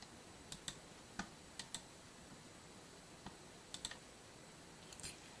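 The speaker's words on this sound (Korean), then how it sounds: "키보드의 자판, 컴퓨터의 자판을 누르니까" Computer keyboard arrow keys pressed one at a time: about a dozen sharp, quiet clicks in small pairs and clusters with pauses between, over a faint, steady background hiss.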